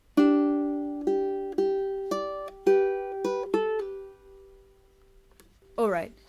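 Ukulele picked fingerstyle playing a phrase from a song, about eight clear plucked notes including a quick pull-off, each ringing and decaying, close and alone, followed by a brief vocal sound at the end.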